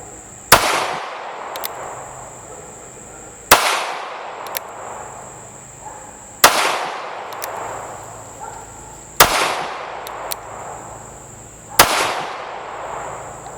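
Five loud, sharp gunshots from a NAA Sentinel .22 Magnum mini revolver, fired at slow, evenly spaced intervals about three seconds apart, each crack close and decaying quickly, with no talking.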